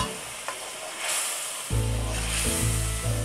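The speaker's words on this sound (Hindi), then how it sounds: "थोड़ा सा पानी शामिल करेंगे ताकि मसाले की भुनाई हो जाए और मसाला जले नहीं" Spices with turmeric and a splash of water sizzling in a hot pan, a steady loud hiss with some stirring, no talk.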